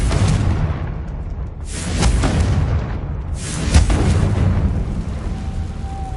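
Confringo blasting spell in the Hogwarts Legacy video game, loud booming explosions bursting twice in succession over a constant rumbling background, each blast followed by a short roaring decay.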